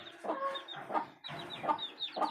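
Free-range village chickens on a small farm cluck softly and continuously, several birds overlapping at a moderate distance with no talking.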